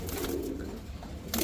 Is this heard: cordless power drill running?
no